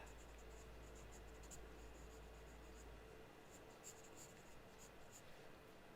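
Pencil sketching teeth on paper gives a soft, steady scratching under a faint low hum, with light tapping strokes toward the end.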